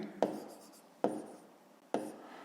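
Chalk or a pen writes numbers for a fifth-grade maths exercise, producing three sharp taps spaced roughly a second apart, each followed by a short scratchy stroke, close and clear with no speech.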